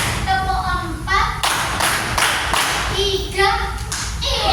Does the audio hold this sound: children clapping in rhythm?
yes